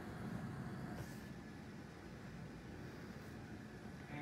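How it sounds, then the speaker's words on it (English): An airliner accelerates down the runway on its takeoff roll with engines powered up: a steady, low rumbling drone, heard alone without talk. "And we are on our takeoff roll,"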